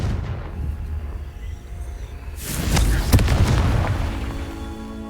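Confringo fire spell explosion in Hogwarts Legacy: a dull rumbling bed, then a loud booming burst around halfway that holds and slowly fades.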